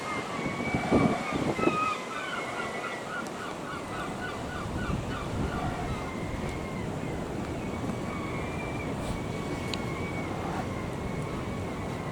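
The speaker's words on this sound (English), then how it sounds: "That is a harsh wind. It's making it feel pretty flipping chilly." Harsh, cold wind blowing hard outdoors, a constant roaring rush with gusty buffeting near the start and a steady broadband whoosh throughout, no speech.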